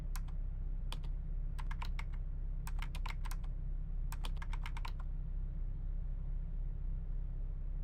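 Computer keyboard typing in clustered bursts of crisp keystrokes over a steady low rumble, close and clear, stopping after a few seconds.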